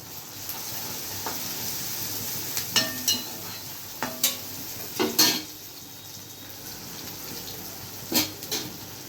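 Spices and asafoetida sizzle in hot oil as a tempering for Gujarati-style dal fry, a soft continuous crackle broken by sharper clinks and scrapes of a utensil against the pan, with no talking.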